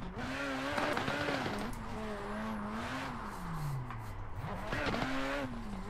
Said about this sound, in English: I do like the sound of this rotary.